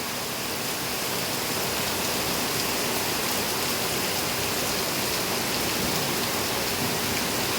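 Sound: heavy rain falling

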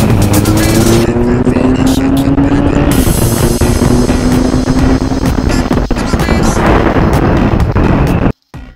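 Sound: Benelli 502C motorcycle accelerating in acceleration test

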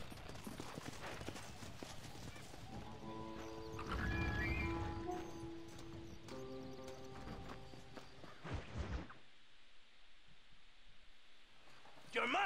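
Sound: horse in video game Red Dead Redemption

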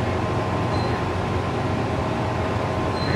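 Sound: train running on rails

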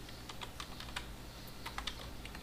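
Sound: typing code on a computer keyboard

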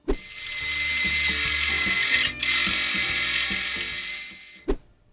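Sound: drilling a hole in steel plate

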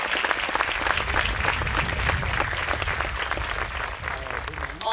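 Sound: applause at a school graduation ceremony

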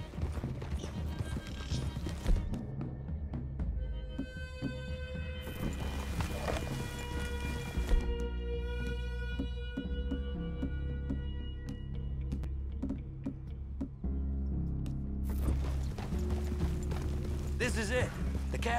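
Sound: horses walking, hooves clip-clop

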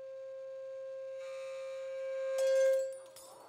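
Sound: wine glass shattered by loud sound

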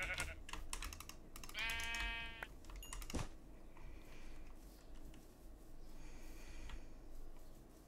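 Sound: sheep bleating in a video game

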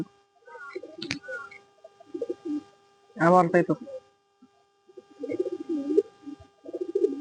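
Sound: Bombay pigeons cooing and fighting

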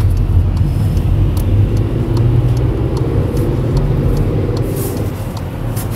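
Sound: Volkswagen Polo 1.2 TSI accelerating on highway

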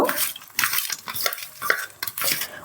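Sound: kuchia fish being mixed with turmeric and mustard oil

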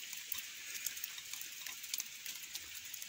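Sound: rain falling on a shelter roof in a field

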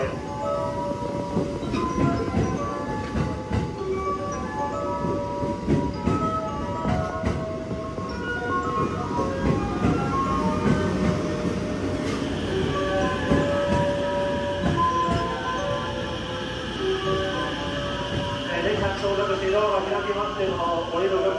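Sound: limited express train arriving at station

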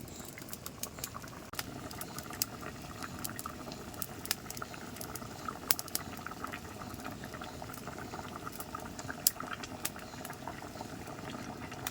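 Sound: curry gravy boiling in a pot

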